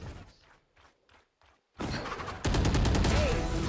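Rapid gunfire from a Valorant match: a few soft thuds and pops, then a loud, sustained burst of shots with a second louder volley near the end.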